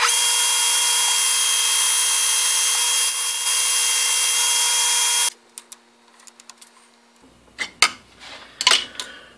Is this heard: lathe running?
yes